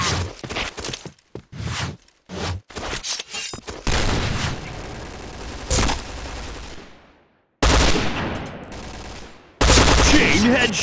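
Gunfire from the online shooter Point Blank: bursts of rapid shots and booms in quick clusters, with short silent gaps between volleys and a loud sustained stretch near the end.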